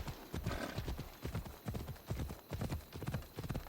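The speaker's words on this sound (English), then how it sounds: "How do I get the horse again?" Horse hooves clip-clop steadily in Assassin's Creed Odyssey, a brisk, even gallop rhythm of dull thuds close by, with a brief whinny early on and no talking over it.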